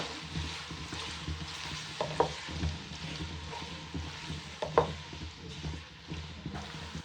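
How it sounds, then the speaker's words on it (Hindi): Finely chopped large onion frying in about half a cup of oil, a soft steady sizzle with a few clinks of a spoon stirring the pan, fairly quiet and without talk. "लाइट ब्राउन करेंगे प्याज को।"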